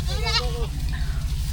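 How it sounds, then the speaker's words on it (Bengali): Several goats bleat close by in a quick wavering call, then fall quiet over a steady low rumble of outdoor background noise; they are part of a herd of sixteen goats out grazing on a riverside char. "মাশাআল্লাহ অনেকগুলা ছাগল"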